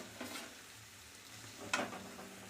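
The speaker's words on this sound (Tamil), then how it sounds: "எண்ணெய் சூடானோடனே சும்மா 2 மிளகாய் நம்ம நறுக்கி வச்சுருக்கிற வெங்காயத்தையும் சேர்த்துக்கலாம்." Oil sizzles and crackles steadily as chillies and chopped onions are tossed into a hot pan, with a sharper burst of frying noise near the end; no talking.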